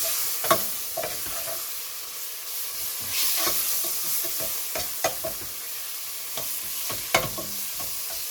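Coriander seeds, garlic and dry coriander are stirred through sizzling ghee in a pan for mulukhiya, giving a steady broadband fry hiss broken by a dozen sharp scrapes and clacks of the spoon, with no talking.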